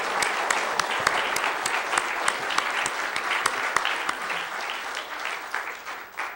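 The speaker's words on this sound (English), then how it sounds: "So please give them a round of applause." Audience applause for candidates at a county candidate forum, a steady dense wash of many hands clapping that holds for several seconds before thinning and fading near the end.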